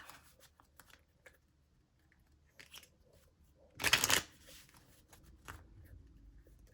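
A Find Your Calm oracle card deck is shuffled in one brief, fairly loud riffle burst near the middle, with quiet handling rustles and soft taps before and after.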